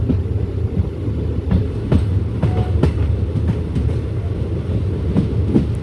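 A diesel train rolls along the Kollam to Aryankavu line with a loud, steady rumble, heard from on board, and wheel clicks recur at irregular intervals.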